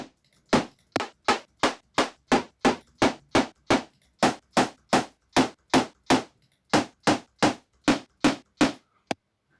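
Synthesized trap/future bass snare built in Ableton Live 10, struck about two dozen times in a fast, even rhythm, each hit sharp, bright and noisy with a short decay, alone and with a brief pause before the last few hits.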